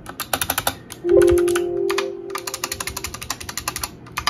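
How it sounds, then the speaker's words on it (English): Rapid, crisp clicking of Kailh Box White mechanical keyboard switches under HyperX pudding keycaps in quick bursts, close up, with a brief pinging metallic ring partway through. "So these switches sound very good and they are very satisfying when you click them."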